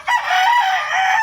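A white breeding rooster crows once, a loud close drawn-out call that holds for about a second before cutting off, alone with no talking.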